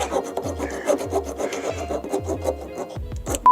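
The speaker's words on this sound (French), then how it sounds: "Là, faites un coup de lime, hein." A hand file rasps back and forth over a car engine part in a quick run of rhythmic, close scraping strokes, with no talking.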